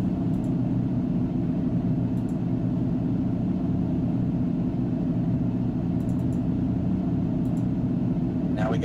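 A 1990s DTM Mercedes 190 racing car in a sim racing game, its engine giving a steady, low, even drone that stays faint and constant throughout.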